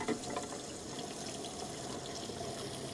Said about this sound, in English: I just want to put a little bit of water in here, shake it around a bit